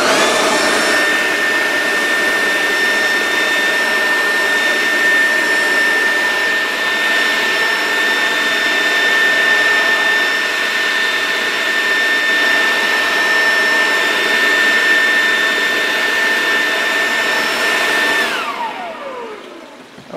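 A Toro Power Jet F700 corded electric leaf blower runs with a loud, steady high-pitched whine and rushing air for about eighteen seconds, then winds down and cuts off near the end.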